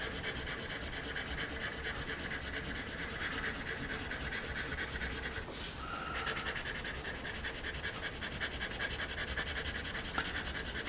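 Quiet, steady scratching of a General's Badger graphite pencil on paper, a continuous soft rasp with a brief brighter stroke midway, close up and without any talking.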